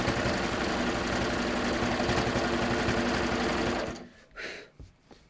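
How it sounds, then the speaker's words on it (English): A sewing machine runs steadily while stitching a curved seam with pearl crown rayon thread, a loud continuous mechanical whir that cuts off near the end, followed by a few faint handling sounds. "I'm just stitching along"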